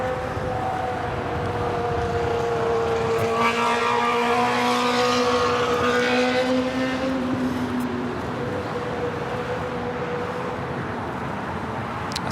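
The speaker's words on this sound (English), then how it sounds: "This United Dreamliner is en route to Newark. It's United 1704, a 4-year-old" A four-year-old United Boeing 787-9 Dreamliner bound for Newark moves at LAX with a steady engine drone carrying distinct whining tones that slide in pitch, set against a constant rumble, with no talk.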